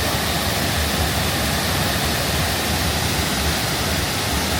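Steady, dense rush of falling water, loud and continuous, a broad flow spilling over a concrete ledge; no voices.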